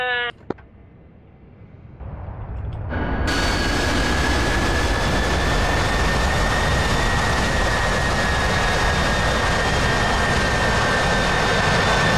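An AJS-37 Viggen jet in the DCS World flight game goes to full throttle: after a short, quieter start the engine swells into a loud, steady roar with a high whine that holds to the end.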